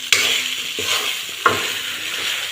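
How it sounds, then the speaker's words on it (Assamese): A spatula stirs food frying in a pan, with two sharp scraping strokes over a continuous close sizzle. "এতিয়া ধুনীয়াকৈ এনেকৈ লাৰি দিব"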